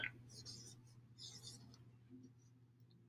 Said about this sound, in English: let's write our sentence